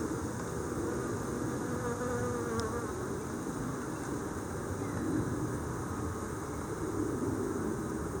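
Honeybees hum steadily inside a dying hive full of dead and failing brood and uncapped cells, a dense continuous buzz close by with no talking over it.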